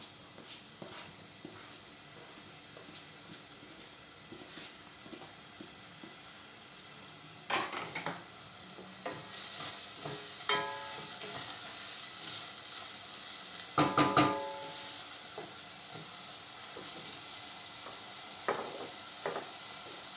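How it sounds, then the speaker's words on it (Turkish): Onions frying in oil in a pan for a lentil dish: a soft continuous sizzle that grows busier partway through, with clicks and clinks from stirring and from the pan. "Soğanlarımı atıyorum."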